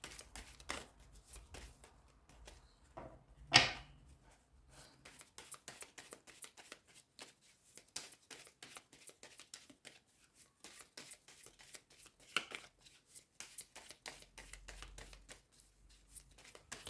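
Oracle cards shuffled by hand during a general full-moon card reading, a soft papery riffle of quiet irregular flicks and taps with one sharper burst of shuffling, close and faint, no one talking.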